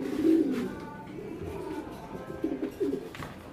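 Pigeons in a loft give soft, low repeated coos nearby, with scattered faint rustling between the calls.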